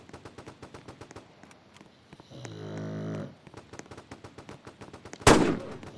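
Gunfire from a weapon in the video game Fortnite: a rapid train of regular shots runs through the whole stretch, with one loud close blast near the end. A droning snore-like tone sits in the middle.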